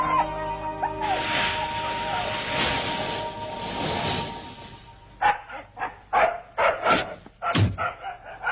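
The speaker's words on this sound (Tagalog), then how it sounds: "Nagugutom lang ata yung aso namin." A dog lets out a run of short yelps and whiny barks after a stretch of rushing background noise.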